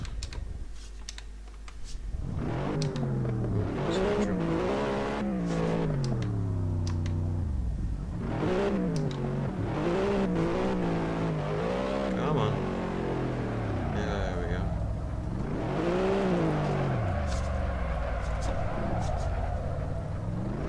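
A Nissan Skyline drifts in the racing game Assetto Corsa, its engine note repeatedly climbing and dropping through revs, with light keyboard-like clicks underneath.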